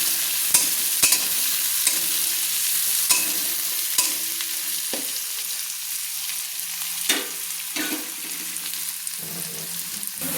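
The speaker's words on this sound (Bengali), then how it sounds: "এবার এই কোচানো পেঁয়াজগুলো আমি একটু লাল লাল করে ভেজে নেব।" Chopped onions fry in a pan with a steady sizzle, broken by regular scrapes and knocks as they are stirred, with no talking.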